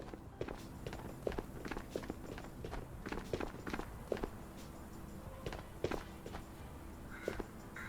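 Footsteps in the video game Ghosts of Tabor: a quiet, steady run of soft, irregular steps over a faint ambient background.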